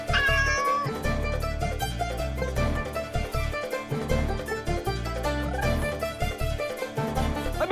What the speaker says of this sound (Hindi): बिल्ली भागी, बिल्ली भागी,